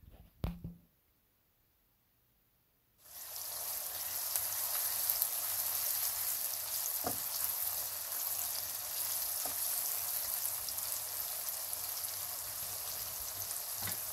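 Onions fry in hot oil, a steady fizzing sizzle that starts abruptly after a short quiet stretch and continues evenly, close and moderately soft, with an occasional faint tap.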